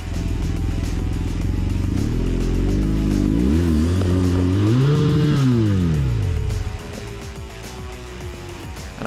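A motorcycle engine revs up and down repeatedly, rising and falling in pitch as the bike rides tight donuts during a GS Trophy qualifier riding exercise, close and loud before easing to a lower idle.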